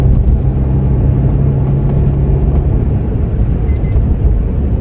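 A car driving at speed on a road, heard from inside as a steady, loud low rumble of engine and road noise with no talk.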